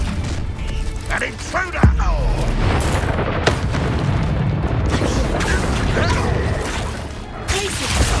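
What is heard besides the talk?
Bombarda explosion spell in Hogwarts Legacy video game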